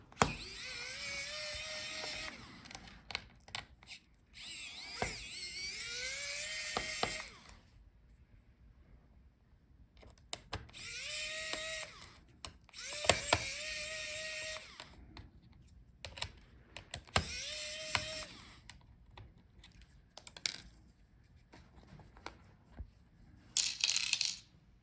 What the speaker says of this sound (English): Now let's continue taking out the screws for the motherboard.